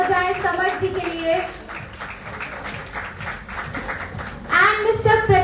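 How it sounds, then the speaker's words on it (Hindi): Audience applause at a Mumbai launch event for the Bhojpuri film Rang De Basanti: dense, steady clapping throughout, with a host's amplified voice speaking over it and rising louder near the end. "प्लीज जोरदार तालियां हो जाए समर्थ जी के लिए"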